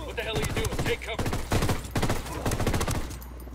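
Enemy gunfire in Ghost Recon Wildlands, rapid bursts of shots crackling close by through most of the stretch, dense and loud, with game ambience in between.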